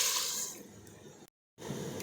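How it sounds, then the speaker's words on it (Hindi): Two cups of water are poured over small broken pieces of jaggery in a pan, a steady splashing pour that tapers off, then a brief dropout and more faint liquid sloshing. "यहाँ पे हम इसमें ऐड करेंगे 2 कप पानी"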